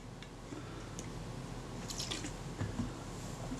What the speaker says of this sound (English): I'm going to pour some naphtha on the whole surface